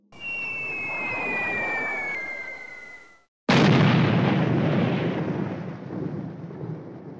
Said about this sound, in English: The 93rd drops her 4 bombs.